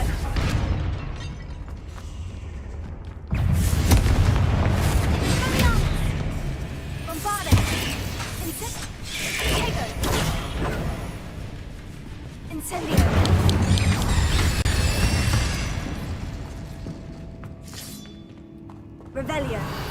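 The Confringo spell in the Hogwarts Legacy video game sets off booming blasts with dense, rumbling bursts, mixed with game effects and spoken voices, as loud impacts recur throughout.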